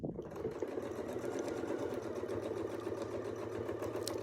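A sewing machine stitches steadily while quilting with a Westalee ruler, a close, continuous mechanical whir with a fast, even rhythm that runs alone for the whole stretch.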